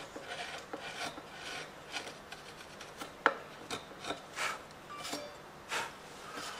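Wood carving chisel from a new carving set cutting into wood and lifting chips, a series of short scraping, rasping strokes at irregular intervals, close and moderately quiet.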